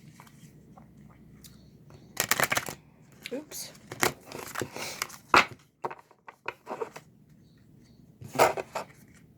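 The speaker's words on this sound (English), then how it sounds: "Give it a couple more shuffles here" Oracle cards, still stiff and new, being shuffled in several short, crisp bursts with quiet pauses between them, close by; a person murmurs briefly.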